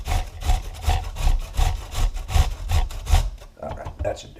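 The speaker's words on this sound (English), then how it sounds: "I'm going to actually go ahead and grate up just a little more." Vegetables for egg rolls are rubbed across a grater in quick, even back-and-forth rasping strokes, close and loud, about nine strokes before it stops.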